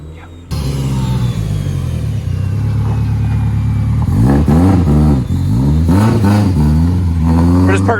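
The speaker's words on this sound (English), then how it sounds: "It's a lot of stop and go uphill on a mountain in the Legacy." Subaru Legacy with a new ACT clutch accelerating uphill on a mountain road, a loud close engine drone that rises and revs, while people talk over it.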